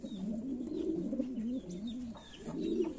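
A champion racing pigeon coos close by in soft, throaty rolling phrases, two main bursts with a short pause between, with faint background chirps.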